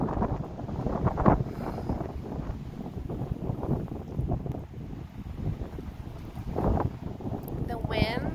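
Strong wind gusts buffet the microphone outdoors on an open reservation landscape, a rough, rumbling roar that rises and falls over several seconds, with a person speaking intermittently beneath it.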